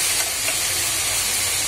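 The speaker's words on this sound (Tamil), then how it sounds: "இஞ்சி பூண்டு பேஸ்ட் நல்லா வதங்கட்டும்." Ginger garlic paste for a chicken gravy sizzles in a hot pan, a loud, continuous close hiss with a low rumble beneath and no voices over it.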